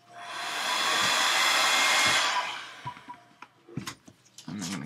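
Heat gun warming craft foam for a gauntlet: a strong blowing whoosh rises and holds for about two and a half seconds, then cuts off, followed by soft handling clicks and rustles.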